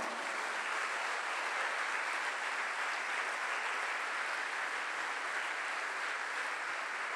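Steady, dense applause from a large crowd at a church gathering, sustained at an even level throughout without any talk.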